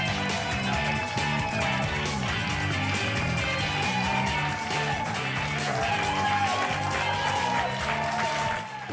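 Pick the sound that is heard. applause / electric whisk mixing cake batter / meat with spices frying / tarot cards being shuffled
applause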